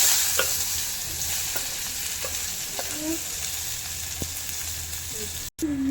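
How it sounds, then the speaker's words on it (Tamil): Onions sautéing in a pan for a Sunday chicken gravy give a steady close sizzle, broken by scattered spatula scrapes and stirring taps, with no talking. "வெங்காயம் வதங்கிடுச்சு"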